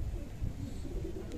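Low, soft Saharanpuri pigeon cooing close by, a brief throaty murmur with no other sounds around it.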